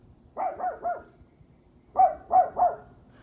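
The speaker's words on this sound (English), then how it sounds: "y'all gonna have to just enjoy the barks" A dog barks twice in bursts of three, sharp mid-pitched woofs separated by a short pause, fairly close with quiet background.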